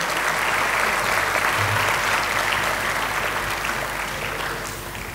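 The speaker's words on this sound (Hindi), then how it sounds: "कृपया जोरदार तालियों से इनका स्वागत करिए।" Sustained applause from an audience welcoming performers at an Independence Day celebration at IIT Kanpur, a dense wash of many hands clapping continuously and fairly loud, easing slightly toward the end.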